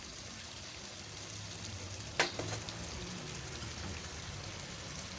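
Chicken cooks on a tawa over medium heat, a Lahore-style dish, giving a dense, even sizzle with one sharp clatter near the middle. No voices are present.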